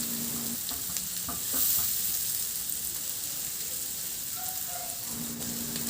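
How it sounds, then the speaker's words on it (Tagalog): Onion sautés in about a tablespoon of melted butter with a steady, rain-like crackling sizzle, close by, with a few faint utensil taps and a brief swell as the pieces are stirred. "Magtunaw na rin ako ng butter, mga 1 tablespoon lang yun. At igisa ko na yung sibuyas."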